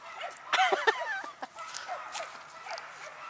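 A dog at Mosquito Lake State Park barks, yips and whimpers in a short excited burst near the start, followed by softer whines and rustling outdoors.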